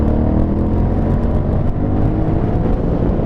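Aprilia Shiver 900 motorcycle engine pulling hard in third gear at mid revs, a loud continuous roar with dense rumbling and wind rush, close up and sustained throughout without talk.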